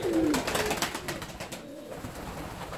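Fancy ornamental pigeons coo in a loft, a near, soft rolling coo opening the moment, followed by fluttering and scattered faint bird sounds.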